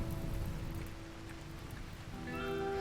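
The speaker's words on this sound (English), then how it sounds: "there comes the rain to protect me from the consequences of my own actions." Rain falls in the video game RimWorld, a steady pattering hiss of raindrops with faint tonal game sounds running underneath.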